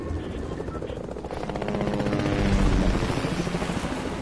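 A helicopter in the video game Fortnite thumps with a rapid, steady rotor chop that swells louder toward the middle and stays prominent throughout, with voices talking over it.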